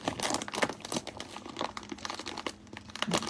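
A paper treat bag template is folded and creased by hand, close crisp crinkling and rustling in quick bursts, no voices.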